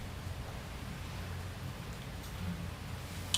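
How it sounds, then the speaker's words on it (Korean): Soft, steady rain hiss fills the background, fairly faint and even, with a small tap at the very end. "빗소리 들리죠?"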